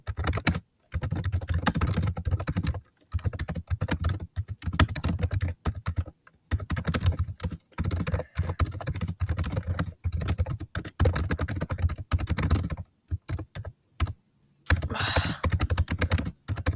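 Rapid keyboard typing during a Nitro Type online typing race, a steady close clatter of keystrokes in bursts separated by brief pauses, with no voice over it.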